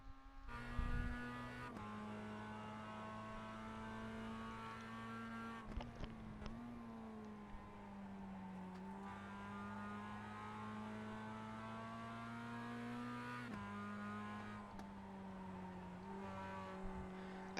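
A Mazda MX-5 race car engine at Okayama in a racing video game, heard from the cockpit as a steady droning note that climbs and drops through upshifts across the lap.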